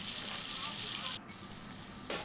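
Tomatoes drop into a pan of hot tempering with cumin, mustard seeds, green chillies and chana dal, for a beetroot palya in a village kitchen. A steady, close hiss of frying oil runs throughout, with a brief dip and then a fresh surge of sizzle.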